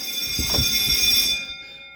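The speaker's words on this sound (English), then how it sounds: "that's the fire alarm that went off." A fire alarm sounds as a steady, piercing high-pitched tone that holds for over a second and then cuts off, leaving quiet.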